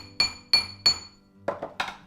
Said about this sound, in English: as I'm hammering the metal, it's making the ring bigger